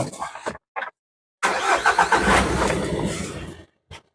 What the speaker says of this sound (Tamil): இருபத்தி ரெண்டு மாடல் சுத்தமான வண்டி ஸ்டார்ட் பண்ணி காட்டிடுறேன் பாருங்க